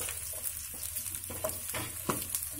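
Spring onions frying and being stirred in a pan for restaurant-style garlic chicken, a continuous close sizzle with scraping stir strokes throughout and no talking.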